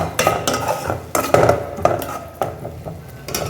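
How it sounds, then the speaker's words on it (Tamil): Ghee is poured and stirred into a cooking pot of chilli paste and dried red chillies for Ambur mutton biryani, with a few close, loud metallic scrapes and clinks against the pot and soft sizzling in between. "ஸோ இதில் அப்படியே கொஞ்சம் நெய் ஊற்றிக்கலாம்."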